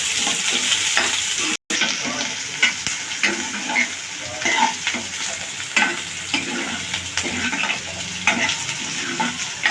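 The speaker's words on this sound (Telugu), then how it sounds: "కరివేపాకు వేసిన తర్వాత పచ్చిమిర్చి ఉల్లిపాయలు కూడా ఫ్రై చేసుకోవాలి" Onions and green chillies fry in hot oil with curry leaves, a loud continuous sizzle with frequent stirring scrapes throughout, no voices.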